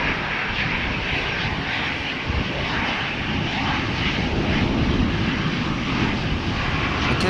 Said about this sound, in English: KLM flight 705 to Rio de Janeiro, the 777-300 in the background, moving to the threshold.